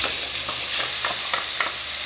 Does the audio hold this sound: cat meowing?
no